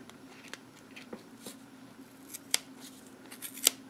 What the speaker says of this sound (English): And just cut all those strands.